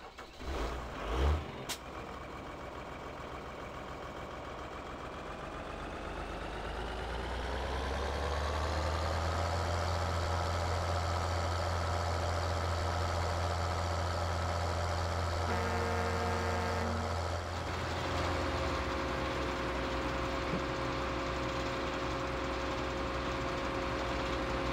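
A tractor engine in Farming Simulator 2013 starts with a clunk, rises in pitch, then settles into a loud steady idle with a steady hum, no talking.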